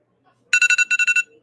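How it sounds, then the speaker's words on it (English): A phone alarm going off with a rapid burst of about eight bright electronic beeps in two quick groups, close and clear against a silent background. "my alarm's going off to wake me up so I could come do my fucking stream"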